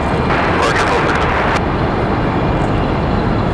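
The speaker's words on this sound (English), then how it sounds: "Envoy 4048 after holding for a little while out in the distance there, coming in from DCA" Envoy Embraer E175 airliner arriving at Raleigh-Durham International Airport, a loud, steady broadband roar that persists throughout, with faint voices mixed into the noise.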